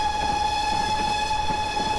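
Whistle of a 2MT steam locomotive in Train Simulator, one loud, steady, sustained tone held for the whole stretch over a rumbling running noise.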